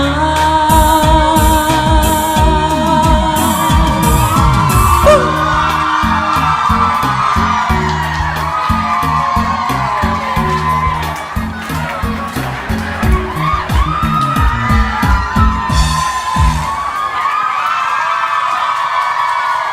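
A concert crowd cheers and whoops loudly over and after music, with shouts and screams rising toward the end as the music drops away.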